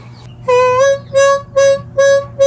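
Solo harmonica rattles off a riff at speed: four quick, punchy reedy phrases in a row with short gaps, close and clear above a low background hum.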